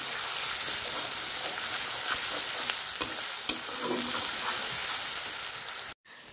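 Onions and green chilies sizzling loudly in a pan, a dense, steady frying hiss with occasional clicks and scrapes of stirring, close up and without talk.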